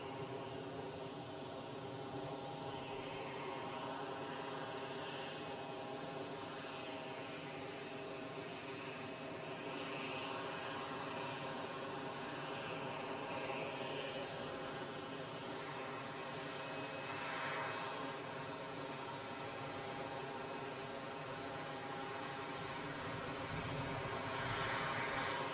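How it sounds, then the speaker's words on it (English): A Transavia Airbus A321 at Amsterdam Schiphol produces a long, steady, faint engine drone with a layered tonal whine, holding even throughout with no talk. "There is the privileged style Airbus A321 flying for Transavia."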